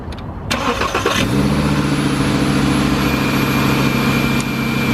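A Volkswagen engine cold-starts, cranking and firing up, then settles into a steady, loud idle with a low rumbling drone.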